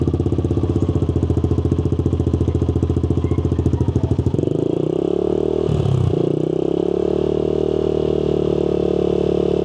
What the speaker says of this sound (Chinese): 我们想说先听看看没塞消音塞的声音大概多大